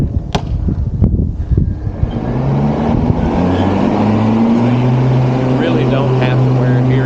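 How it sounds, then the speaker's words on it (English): Blades of a Ryobi 48-volt RY48130 electric riding mower with a 30-inch deck spin up after a few clicks and brief talk, building into a smooth, moderately quiet whirring whine that climbs slightly and holds steady. "So let's listen to what the blades sound like."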